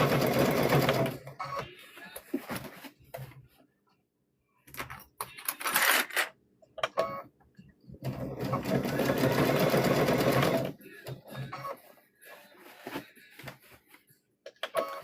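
A sewing machine back-stitches the handle of a cotton trick-or-treat bag, running in several close, rapid mechanical bursts separated by brief pauses and quiet gaps.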